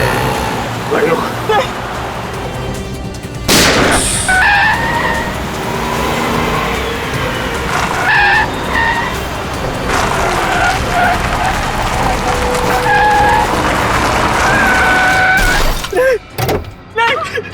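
Cars race and skid to a stop in a crime-drama chase scene, with loud engine roar, tire screeches and horn-like tones, and people shouting over it.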